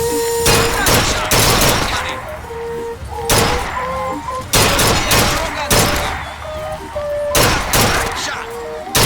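Gunfire at a shooting gallery in the video game Bioshock Infinite: loud repeated bursts of shots in clusters, separated by short pauses, with a tonal game chime ringing between the volleys.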